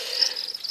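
Crickets kept in a container: one continuous, high, steady chirping trill, close and fairly clear, lasting under a second.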